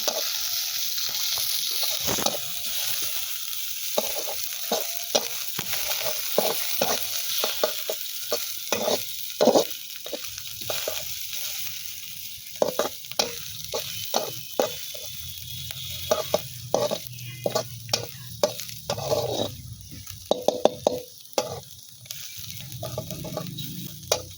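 Sliced onions frying in a pan and being stirred, for a chowmein in a village kitchen: a constant hiss broken by many quick, close scraping strokes of a spoon against the pan, with no talking.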